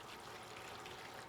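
Liquid poured over ceramic tiles outdoors on a chilly day, a steady close splashing trickle with continuous wash of water noise throughout, no voices.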